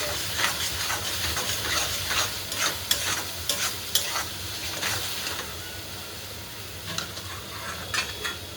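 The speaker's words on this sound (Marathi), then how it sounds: "मसाला छान भाजत आला" Masala spices roast in a pan for a sprouted moth bean dish, a constant sizzling hiss with irregular scraping strokes and taps of a spatula stirring, fairly close and with no speech.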